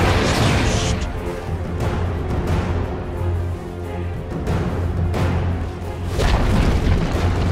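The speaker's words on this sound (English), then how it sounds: "Dire's middle tower has fallen." Dota 2 game audio as a tower is destroyed: a dense, continuous rumble of booming impacts and crashing debris with a steady low drone underneath, loud throughout and swelling again near the end.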